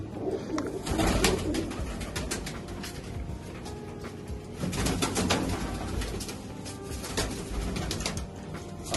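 Pigeons at a loft in Begowal coo in low, throaty, rolling calls that rise and fall in waves, with the occasional soft flutter of wings close by.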